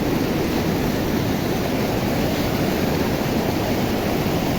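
Mandakini Falls near Gangotri, its water tumbling from above in a dense, unbroken roar that stays loud and steady throughout, with no voices.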